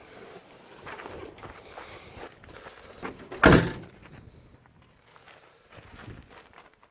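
A single sharp thunk of a 1942 Lincoln Continental's car door stands out amid quiet shuffling and faint movement, with no talking.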